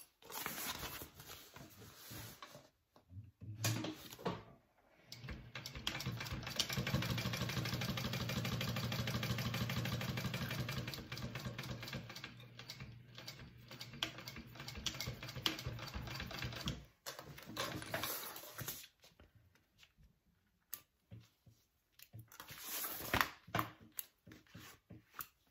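A sewing machine stitches the center line of a shoulder bag pocket, running in a fast mechanical rattle, with bursts that stop and start and a longer steady run in the middle, fairly faint and close.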